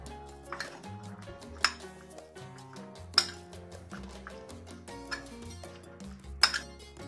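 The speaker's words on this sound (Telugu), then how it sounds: "పై నుంచి ఒక హాఫ్ లెమన్, ఇట్లా అంతా కలిసేలాగా కలుపుకోవాలి." Spoon stirring masala peanuts with half a lemon squeezed over them in a bowl, giving soft scraping with several sharp clinks against the bowl, close and moderately quiet, with no talking.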